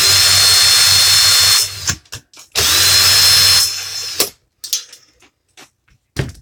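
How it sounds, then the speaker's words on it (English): Electric drill spinning to twist 24 gauge wire, running in a steady high whine for about two seconds, briefly stopping, then running again for nearly two more seconds, followed by light handling clicks and quiet pauses. "I'm going to get the 24 gauge onto the drill"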